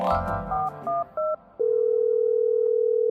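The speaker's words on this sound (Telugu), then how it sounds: "మీరు మన కాశీ బాబాయ్కి ఫోన్ కొట్టండి." A landline telephone handset beeps through a few short dialing tones, then settles into a steady, continuous dial tone as a call is placed.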